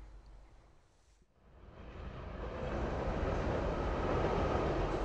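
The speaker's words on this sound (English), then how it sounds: "A ride on the Indian Pacific is one of the train trips of a lifetime." Indian Pacific passenger train crossing Australia on the Trans-Australian Railway, a steady broadband rumble of rolling stock that dips briefly then swells louder and holds, with no talk.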